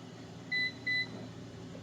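Two short electronic beeps from a Xiaomi Air Fryer Pro 4L control panel, clear and close, the second following the first after a brief pause, over a low steady room hum.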